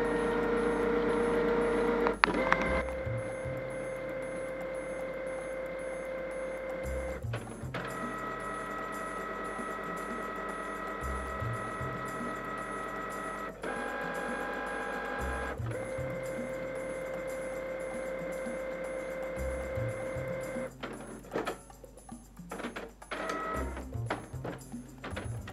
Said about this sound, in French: c'est pas une imprimante de la méga qualité